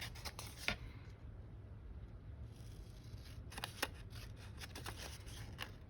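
Paper being trimmed with scissors around an edge while making a tea sleeve pocket, a series of short crisp snips scattered through a quiet room, with a few louder cuts near the start and middle.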